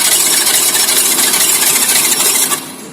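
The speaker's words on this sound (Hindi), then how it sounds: "एक्टिवा इसमें क्या प्रॉब्लम दे रहा है, जब सेल मारेंगे तो उसको भी देखो साउंड आता है।" Honda Activa scooter making an abnormal noise on self start: a loud, steady broadband mechanical whirring and rattling that runs continuously for nearly three seconds, then drops away at the end, with no talking.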